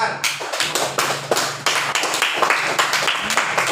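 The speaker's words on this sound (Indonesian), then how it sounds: "Tepuk tangan." A classroom of students clapping their hands together in rhythmic bursts, sharp close claps repeating in regular groups, fairly loud and unaccompanied by talk.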